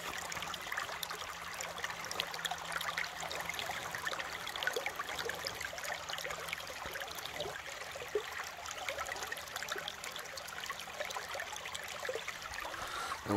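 Stream water running steadily through a gold sluice box outdoors, a constant soft rushing and trickling wash that stays even and fairly faint throughout with no talking.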